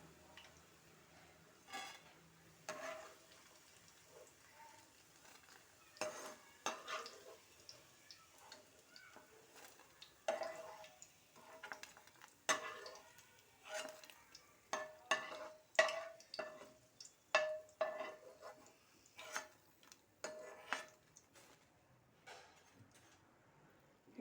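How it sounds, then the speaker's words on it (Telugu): Pots, pans and utensils clatter and scrape in irregular bursts that grow busier toward the end, as ingredients are fried and stirred in a pan, with a faint sizzle beneath the clinks and no talking. "ఇది బాగా వేయించుకుందాము."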